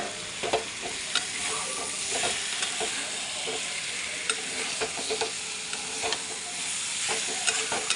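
Pointed gourd stirs and fries in mustard oil in a pan, a busy sizzle broken by repeated scraping clicks of the spoon against the metal at an uneven rhythm, close and fairly loud.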